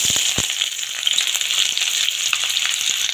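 Chopped onion frying in hot mustard oil, a steady, loud crackling sizzle that runs the whole time with a few soft stirring knocks and no voices.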